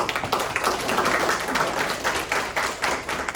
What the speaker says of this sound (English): All right, a round of applause for Kevin.